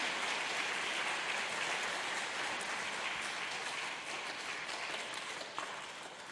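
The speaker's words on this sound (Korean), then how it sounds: "강사님을 뜨거운 박수로 모시겠습니다." An audience applauding to welcome a lecturer at a church Advent talk, with steady, dense clapping from many hands that fades slightly near the end.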